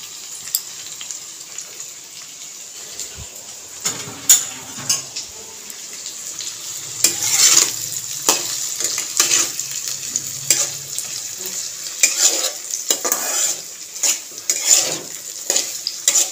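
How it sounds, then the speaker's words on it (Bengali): Chopped onion, ginger paste, garlic paste and chopped tomato fry in oil over chillies, with steady sizzling and repeated spoon scrapes and clinks against the pan that grow busier partway through. "এবার আমি পেঁয়াজ কুচি, আদা বাটা, রসুন বাটা আর টমেটো কুচি দিয়ে দিচ্ছি।"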